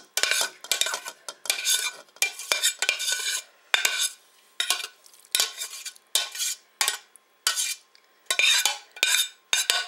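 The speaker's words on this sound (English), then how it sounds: "I'm putting in all the ground beef and the peppers and the onions right now" A spoon rattles and scrapes in a pot in short, uneven bursts separated by brief pauses as ground beef, peppers and onions are tipped in and pushed around, with no one talking.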